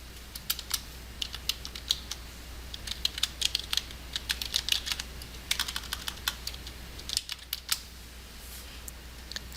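Search terms are typed on a computer keyboard in quick, irregular bursts of light clicking keystrokes, close and fairly quiet against a low steady hum, with a brief pause near the end.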